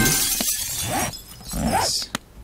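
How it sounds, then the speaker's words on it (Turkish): Glass windows smashed in the survival game 7 Days to Die, a few sharp shattering bursts with a crisp final crack, heard over a steady game background and murmuring voices. "Hatta şu camları da hazır gelmişken kırdığımda cam olarak şöyle yapalım."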